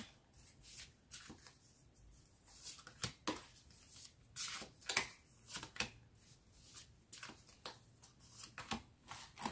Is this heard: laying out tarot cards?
yes